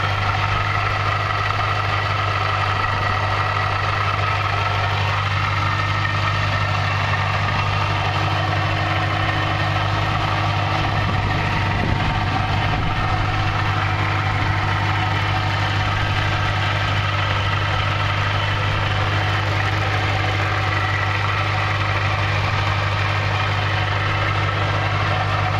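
A supercharged 4.6-liter 2008 Saleen Mustang, a one-off SEMA show car, idles in the Midnight Club Los Angeles video game on Xbox 360, with a steady, even engine rumble holding constant throughout.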